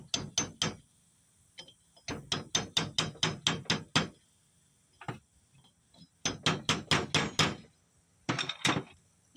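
A hand ratchet with a 7/16 socket works on an HX35W turbo during a rebuild, giving close, crisp bursts of rapid clicks in several separate runs with short pauses between them and no talk.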